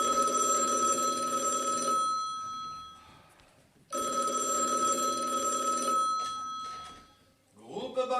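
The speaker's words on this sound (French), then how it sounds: "et ce téléphone qui sonne" An old-fashioned telephone bell rings loudly in two long bursts, each about two seconds, separated by a pause, during a stage play set in a bank.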